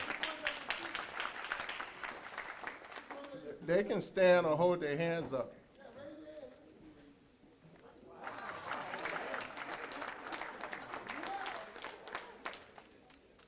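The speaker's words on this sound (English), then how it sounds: "let's give them another round of applause, please" A round of applause for students at a State of the City event, many hands clapping in a steady wash that breaks for a stretch of speech in the middle, then resumes and carries on to the end.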